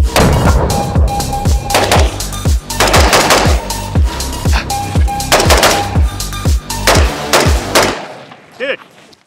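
Saber 10 DMR, an M110-style semi-automatic rifle, fired in a fast string of about a dozen loud, sharp, closely spaced shots with a short decaying tail after the last one.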